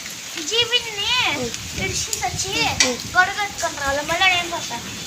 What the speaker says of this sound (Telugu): బెంగళూరు ఫుల్ వర్షం